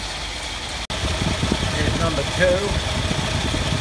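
A Toyota Land Cruiser 45 with a 2F engine idles with a low, steady, slightly uneven rumble, briefly cutting out once, while someone talks close by.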